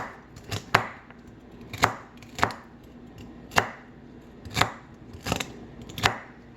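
A knife dices eggplant on a cutting board in sharp, evenly spaced chops, about seven strikes roughly a second apart, close and clear with no talking.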